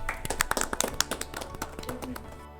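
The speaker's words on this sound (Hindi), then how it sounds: "तो एक बार इस राउंड के लिए आप लोगों के प्रयासों के लिए जोरदार तालियां" Clapping at an Independence Day quiz show comes as a string of distinct sharp claps, a small group rather than a large crowd, loud at first and thinning out toward the end.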